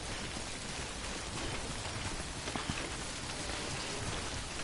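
Timefall rain in the video game Death Stranding falls as a soft, continuous patter and hiss, fairly quiet and steady with no voices.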